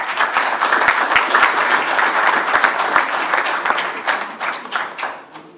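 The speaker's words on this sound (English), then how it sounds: "So I want to applaud you and everyone else that showed up." Sustained applause from an audience at a business lecture, honoring attendees, with a few sharp individual claps standing out. It holds steady, then thins slightly toward the end, with no speech.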